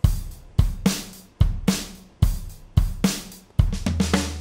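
A GarageBand virtual drummer plays a steady groove with its stereo pan flipped, so the hi-hats sit on the left; kick and snare hits land regularly with crisp cymbal wash, close and loud with no voices.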